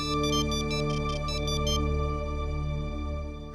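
A mobile phone plays a melodic electronic ringtone when a call is returned, a rapid run of bright repeated notes over a steady droning background, loud and continuous with no talk.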